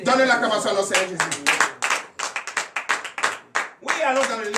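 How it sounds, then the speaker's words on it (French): A church congregation claps in quick bursts during morning prayer, with voices cheering and shouting over the applause and a preacher's voice rising at the start and end. "Donnez l'acclamation à notre Seigneur Jésus."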